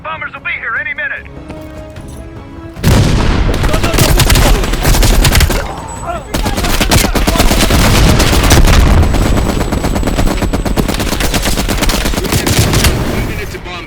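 Machine gun fire in Call of Duty: Black Ops Cold War, heard as loud, sustained bursts of automatic gunfire and battlefield blasts mixed with game voices and dialogue.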